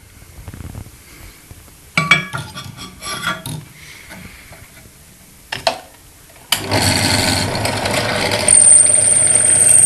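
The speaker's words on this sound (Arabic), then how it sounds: "هنحط بيستم BSA وهنحاول ان احنا نعمل له ثقب كده زي البيستم ده" A drill boring into a BSA metal piston, starting with bursts of grinding and scraping contact, then a loud, steady, harsh whine of sustained drilling under hard pressure, close up, with no speech.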